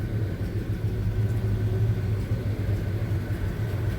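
A 1975 Chevy C10 pickup's engine rumbles at a steady low idle, a close, continuous throb with no clear crank or rev, heard alone without talk.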